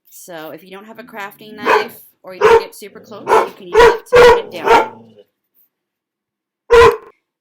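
Puppies bark and yip in a rapid volley at another dog, loud and close, with a final bark after a short pause; a person speaks over the start.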